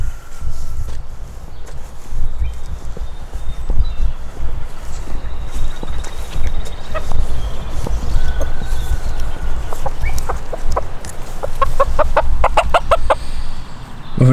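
Livorno bantam cross chickens from a breeding flock, clucking and calling steadily close by, with scattered sharper calls and light footsteps or scratching underneath.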